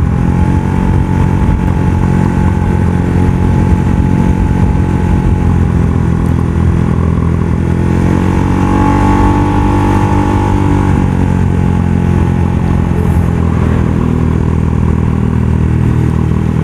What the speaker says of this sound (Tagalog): yung motorsiklo na hawak ng ating mga kasama ay yung aking motor na RS na Yamaha